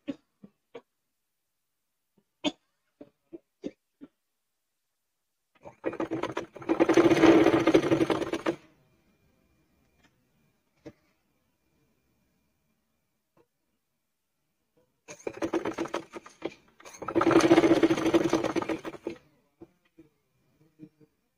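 Sewing machine stitching elastic onto panty fabric, running in two separate bursts of about three seconds each, with quiet clicks and fabric handling between them.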